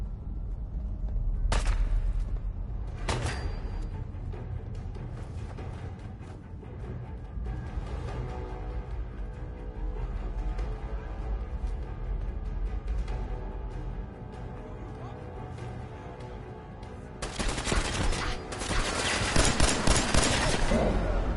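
Enemy gunfire in Fallout 4 crackles through a long stretch of sustained shooting, with sharp isolated reports early on and a dense, loud burst of rapid shots near the end.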